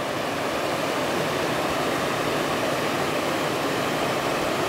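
The Snoqualmie River flows steadily beside a plein air painting spot in fall, a close, continuous broadband rush of water with no pauses and no voices.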